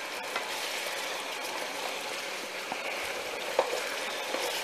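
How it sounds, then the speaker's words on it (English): Steak pieces for tacos frying in a pan while being stirred: a steady, close sizzling hiss with a few soft scraping clicks from the stirring. "Now just keep stirring the thing up for a little while."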